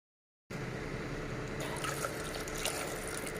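Water pours into a cooking pot of rice and dal, a steady close splashing fill that begins abruptly after a short silence and grows busier with trickling and gurgling.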